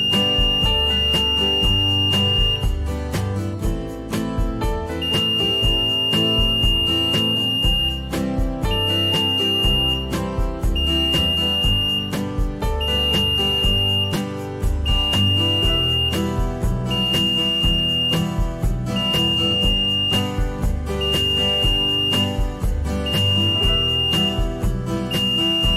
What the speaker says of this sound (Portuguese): a balança soará um alarme